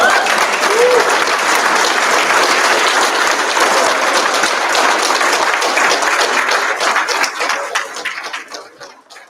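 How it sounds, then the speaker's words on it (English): Loud, dense applause from a crowd at a Masonic lodge installation of officers, sustained for several seconds then tapering off to scattered claps at the end. "Give yourselves a round of applause."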